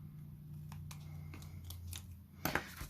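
Scissors cutting paper scraps along a grid line, with a few quiet snips over a low hum, then a cluster of sharper, louder cuts near the end.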